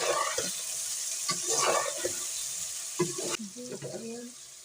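Okra is stirred with spices in a frying pan, a brisk sizzle running throughout while a spatula scrapes in short bursts, and a brief soft voice cuts in once near the end.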